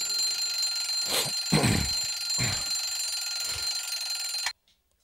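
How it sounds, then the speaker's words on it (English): An alarm clock rings loudly and continuously in a song's dream scene, its tone steady while a few thumping beats land beneath it before it cuts off abruptly near the end. "my alarm clock went off and I had to wake up"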